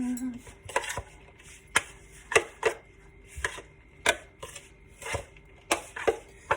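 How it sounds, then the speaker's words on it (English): A spoon mixes pizza ball filling in a bowl with repeated irregular knocks and scrapes, close and moderately loud, spaced about every half second to second. "just take a spoon, mix this bad boy up"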